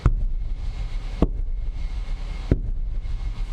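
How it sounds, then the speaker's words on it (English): Three dull, muffled knocks on a sound-deadened camper van wall, spaced about a second apart, each quickly deadened against a low steady background rumble. "That's the sound of sound deadened wall."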